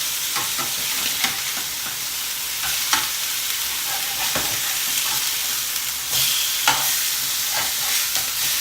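Turkey breast steaks fry in a hot pan with a bright, steady sizzle, punctuated by several scraping spatula strokes and clacks close by.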